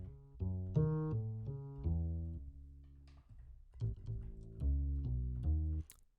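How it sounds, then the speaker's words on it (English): A deep upright bass plays a walking line of plucked notes, resonant and woody, alone without other instruments or voices. "That's an upright bass."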